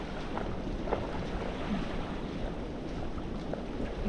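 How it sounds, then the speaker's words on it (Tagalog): Strong wind blows at the seaside, a steady broad rush buffeting the microphone with faint surf mixed in, continuous and fairly loud with no one talking. "Lakas ang hangin."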